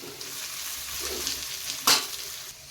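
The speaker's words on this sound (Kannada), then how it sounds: "ನೋಡಿ, ಇದನ್ನು ಎಣ್ಣೆಯಲ್ಲಿ ನಾನು ಮಿಕ್ಸ್ ಮಾಡ್ಕೋತಾ ಇದ್ದೀನಿ." Masala stirred through hot oil in a pan for capsicum gojju sizzles steadily and close, with a brief louder scrape of the spoon near the end and no voices.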